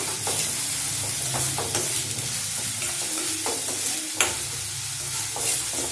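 Onions sauté in oil for paniyaram, with a steady close sizzle broken by repeated stirring scrapes and one sharper knock partway through.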